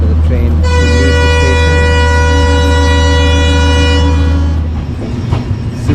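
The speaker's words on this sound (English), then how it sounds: "That's the signal for the train to leave the" A long, loud, steady multi-tone horn blares for about four seconds at a Delhi station as an overnight superfast train to Jodhpur prepares to depart, then cuts off, leaving platform rumble and murmur.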